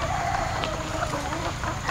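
Kadaknath hens and roosters on a farm give off a continuous, dense clucking and crowing din, many birds at once under steady background noise.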